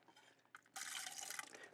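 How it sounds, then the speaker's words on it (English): Soaked bread squeezed by hand over a bowl while cooking vegetables, giving a brief faint splash and then a steady trickle of water running and dripping for about a second, quiet and close. "so I'm gonna press that bread out of it."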